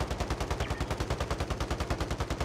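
Automatic gunfire in the video game Call of Duty: Modern Warfare, a loud, close, rapid burst of evenly spaced shots firing continuously for over two seconds.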